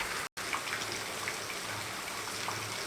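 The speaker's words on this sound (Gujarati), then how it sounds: "વરસાદ બંધ થતો નથી" Steady rain hisses evenly throughout, with faint scattered drips, briefly cut off near the start.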